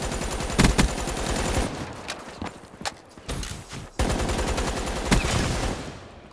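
Rapid gunfire bursts from the Razorback weapon in Black Ops 3 online play, with dense rattling volleys and sharp single cracks running loud and continuous with brief gaps.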